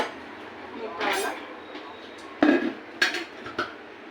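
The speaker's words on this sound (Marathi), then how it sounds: "त्यासाठी मी टोप घेतला इथे मोठावाला।" A large metal cooking pot used for tempering crab curry is handled in a kitchen. There are a few sharp metallic clanks and knocks near the end, over faint background noise.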